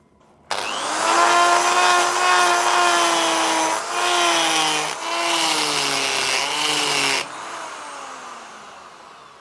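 A Banggood carbide burr grinds into metal with WD-40, a loud, steady, high-pitched whine lasting several seconds, briefly dipping twice as the cutter bites, then cutting off into quieter background hum.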